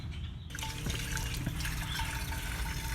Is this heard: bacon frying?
no